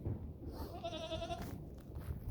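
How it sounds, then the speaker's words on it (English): Alpine Boer cross and Boer goats on a farm, one wavering bleat lasting under a second, moderately near, over a low outdoor rumble with no talk. "These two are Alpine Boer crosses, and these are Boer goats."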